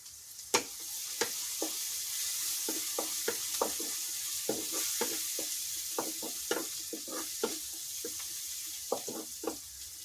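Sliced onions frying in a pan with turmeric powder, stirred with a spoon: a steady hiss of sizzling oil under a series of irregular scraping and tapping stirs, close and clear, with no talking.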